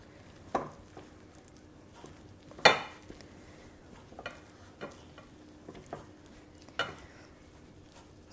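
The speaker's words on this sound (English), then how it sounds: "we're going to mix this together with a spoon at first" A spoon scrapes and knocks against a bowl while empanada dough is mixed, sparse sharp clinks separated by quieter stirring, close and fairly soft, with no voices.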